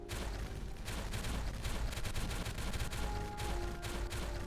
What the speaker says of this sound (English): That's the sound of the path getting destroyed.